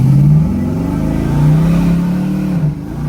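A 1980 Chevrolet Malibu with a 6.0L engine, 4L60e transmission and 12-bolt rear end accelerates hard, a loud, close, deep engine roar rising and shifting in pitch, then easing off near the end.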